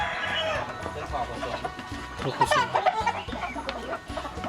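Chickens clucking in a flock of laying hens and young hens on a farm, steady busy clucking close by with someone talking over it.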